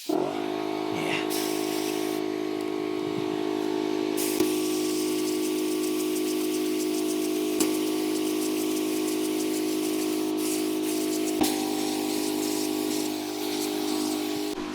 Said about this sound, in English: Sorry for the noise, but that's my compressor.